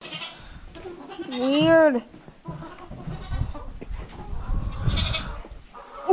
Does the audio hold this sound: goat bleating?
yes